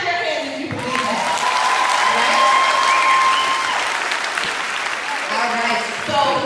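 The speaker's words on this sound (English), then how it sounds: "Clap your hands if you believe that." A conference audience at a Black Girl Magic event claps together in a loud, dense burst of applause that holds steady for several seconds, with voices and a drawn-out cheer rising through it.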